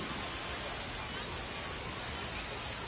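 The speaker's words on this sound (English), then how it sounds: "We'll see how well the field holds up with the way the rain is coming down." Heavy rain falls on a baseball field in a video game, a dense, even hiss that holds steady and close throughout with no breaks.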